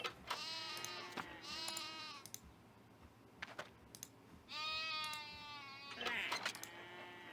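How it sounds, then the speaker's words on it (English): Sheep in the game Runescape 3 bleat in two long wavering calls, one near the start and another midway, with keyboard and mouse clicks tapping between them and no speech. "I will plonk this sheep in here."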